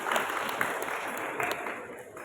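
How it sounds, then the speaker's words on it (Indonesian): An audience at a Halal Bihalal gathering claps briefly, a short burst of moderately loud applause with a few sharper hand claps, lasting only a couple of seconds. "Tepuk tangan buat keluarga."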